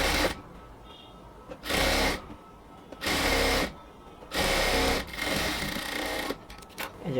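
A sewing machine runs in four bursts of rapid mechanical stitching along the full hem of a blouse, each burst loud and close, broken by short quiet pauses.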